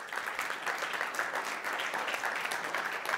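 Steady applause from a conference audience at a hackathon results event, dense continuous clapping filling the whole moment at an even level with no voices over it.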